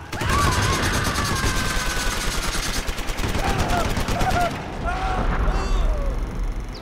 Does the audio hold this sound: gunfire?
yes